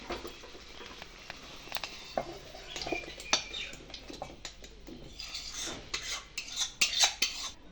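Cooked prawns are moved with utensils into a metal bowl in a home kitchen, making soft, irregular clinks and scrapes of metal on metal that grow busier toward the end.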